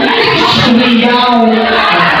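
A crowd shouts and cheers together at a school opening game event, a loud sustained roar of many voices close by.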